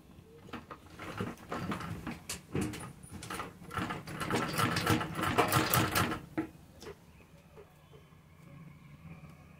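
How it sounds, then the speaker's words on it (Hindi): A sewing machine stitches a green border onto a sleeve, its rapid mechanical whirring running in short bursts with pauses in between before going quiet near the end. "यहाँ पर ग्रीन ये किनारी पर हम सिलाई लगाएंगे।"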